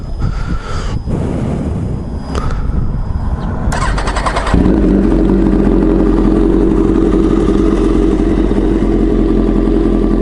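A motorcycle with an aftermarket exhaust idles with a steady, loud, deep rumble after some brief mechanical clicks and shuffling, running continuously with no talking.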